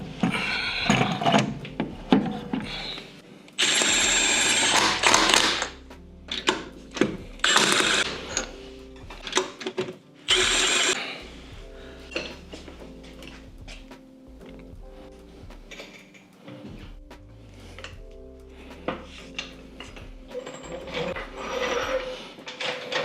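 A ratchet clicks in quick bursts as lug nuts are tightened to put a wheel back on a BMW G8X with AST track coilovers. Mechanical clatter and pauses fill a quiet garage, and there is no speech.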